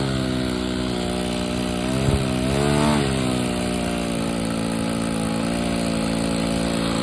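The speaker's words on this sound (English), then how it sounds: "This is a very small engine, so it's not real impressive." A very small glow engine on a vintage Cub RC airplane runs steadily and close by, a continuous buzzing drone with a brief rise in pitch midway before settling back to an even note.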